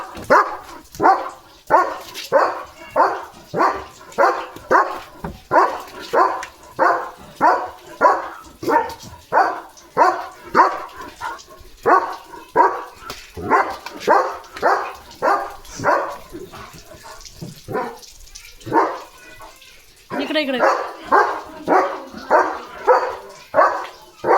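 A dog barks over and over in a steady, rapid rhythm, loud and close, with a short break before the barking resumes at the same pace.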